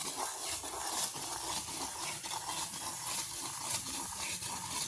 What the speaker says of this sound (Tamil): நம்ம எண்ணெயில் பொரிகிறது தானே